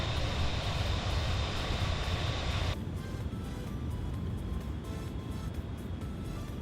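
BAe-146 aircraft engines in a flight simulator produce a continuous jet drone with a broad hiss that suddenly thins partway through, leaving a lower, steady rumble.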